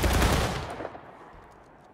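A musket volley from Civil War soldiers in War of Rights crashes out as a dense burst of overlapping shots, loud at first then rolling and fading into echo over about two seconds.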